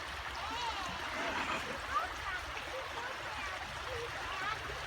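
River stream flowing close by, a continuous soft rushing and trickling wash of water at moderate level, steady from start to end.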